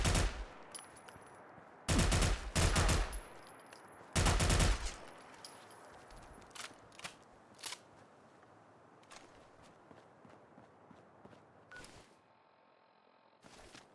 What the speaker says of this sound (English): You're shooting at me, are you, bro?